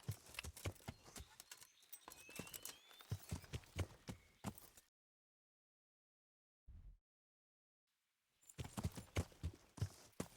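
Horse hooves clip-clop in the medieval video game Kingdom Come: Deliverance, a brisk rhythmic stream of close hoofbeats that stops for a few seconds of near silence and then resumes.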